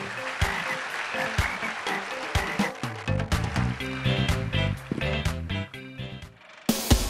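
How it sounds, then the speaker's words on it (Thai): Audience applause at a Thai youth talk event, bursts of clapping mixed with music and shifting crowd noise. "ปรบมือให้ตัวเองด้วย"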